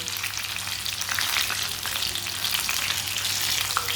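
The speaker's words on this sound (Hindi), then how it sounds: "इसी तरह फ्राई करना है, जो आपके सामने जैसे मैंने फ्राई की है इसी तरह फ्राई करना है इसे" Green chilli pakoras deep-fry in hot oil, giving a continuous crackling sizzle with bright popping bursts throughout and no voices.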